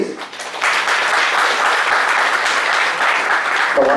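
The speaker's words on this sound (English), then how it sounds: "a big applause, please" Loud, sustained applause from a seminar audience, clapping densely and evenly for several seconds.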